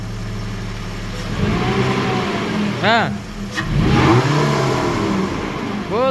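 The engine of a GAZ-24 Volga fitted with a Mercedes M104 motor and automatic gearbox revs up and down several times at close range while someone talks briefly over it.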